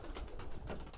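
Pigeons coo close by in a brief, soft run of repeated low throaty calls, with no voices over them.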